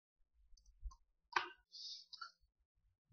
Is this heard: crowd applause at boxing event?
no